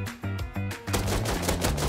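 Rapid bursts of gunfire in the survival game Rust, loud and close, with short rhythmic volleys at first, then a sustained dense stretch of shots under a steady low tone.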